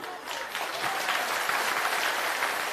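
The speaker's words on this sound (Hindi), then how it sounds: "अभी ताली बजाने का बारी अब है" Steady audience applause at an outdoor political rally in a Bihar village, dense clapping from a large crowd held at an even, fairly loud level throughout with no voices standing out.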